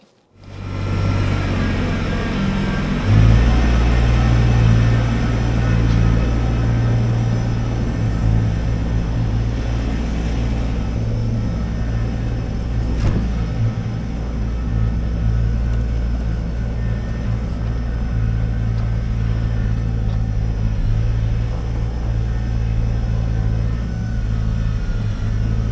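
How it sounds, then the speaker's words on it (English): A tractor tows a trailer in snow, giving a loud, steady diesel engine drone and low rumble that kicks in after a moment and holds for over twenty seconds with no speech. "take the carry all off the back of the tractor, put the trailer hitch on, and tow it out"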